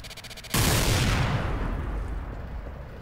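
A Vulcan minigun in a video game kicks in abruptly and loudly, then settles into a sustained roaring whir that slowly fades, with a faint steady hum beforehand.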